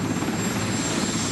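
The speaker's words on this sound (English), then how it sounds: "As soon as the engine of this helicopter shuts down," A helicopter engine keeps running after landing at a 1989 Boston University commencement, a loud, steady, dense roar with constant whine and no pauses.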